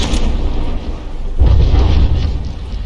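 A large volley of battleship shells fires from the rearmost turret of the Paladin in From the Depths, heard as heavy booming bursts, a rumbling barrage near the start and a louder, sustained low-end blast from about the midpoint onward.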